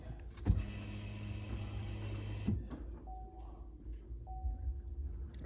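Electric fuel pump of a car priming right after the key is turned on, a steady whirring hum lasting about two seconds, close and even, then cutting off abruptly into a quiet background with faint tones.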